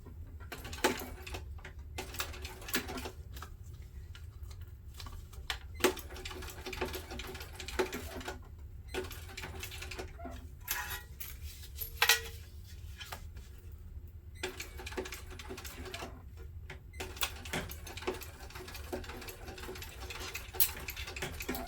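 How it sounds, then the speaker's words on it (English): A sewing machine top-stitches backpack fabric in repeated bursts of rapid mechanical chatter, each run stopping and starting with brief quiet gaps and small clicks between, close at hand. "We're only going to top stitch right here."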